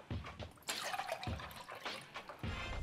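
Water poured from above into a Xiaomi tip-proof cup standing in the middle of a table, a close splashing trickle that comes in several short bursts separated by brief pauses.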